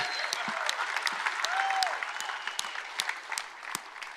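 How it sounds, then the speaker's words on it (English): Sustained audience applause at a live seminar, a dense crowd clapping steadily and fairly loudly, with individual sharp claps punctuating the continuous wash throughout. "Yeah, you should clap that up."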